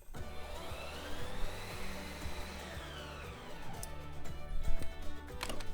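Ninja Creami ice cream maker spinning a dairy-free turmeric golden milk mix, a steady whirring motor hum with a blade tone that rises and falls, with clicks toward the end.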